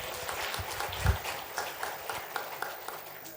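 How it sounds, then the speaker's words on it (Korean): A church congregation applauds during a Sunday service scholarship presentation. The clapping is soft and distant, a dense, even patter lasting a few seconds with slight swells, and no clear talk over it. "박수를 한번 더 경의하겠습니다"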